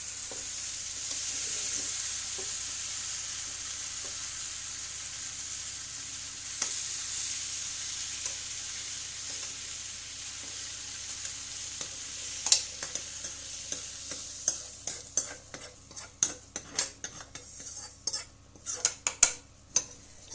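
Spices or ingredients frying in a pan at home, a steady sizzle building to sharp, irregular clatters of a utensil stirring and scraping the pan, close and fairly loud with no talk.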